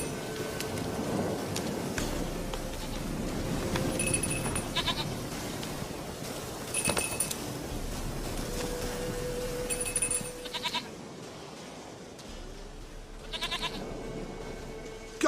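A goat bleats a few times in The Witcher 3, short nasal cries spread over a steady wash of rain and ambient noise, moderately close and fairly loud.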